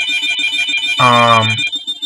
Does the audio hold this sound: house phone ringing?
yes